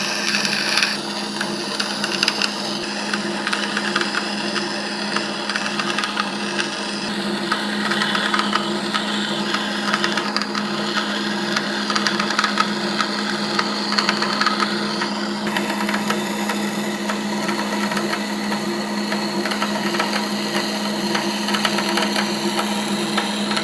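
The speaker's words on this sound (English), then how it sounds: "we're going to take it over to the bandsaw and get it cut" Bandsaw cutting through a Ferrari F430 brake pedal in a workshop: a continuous high, buzzing whine with gritty rasping from the blade in the metal, steady and loud with no pauses.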